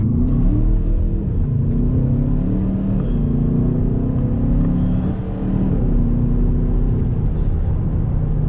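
Škoda Kodiaq RS 2019 SUV under full throttle in sport mode, engine droning loud and steady from inside the cabin, pitch climbing through gears with short dips at each shift.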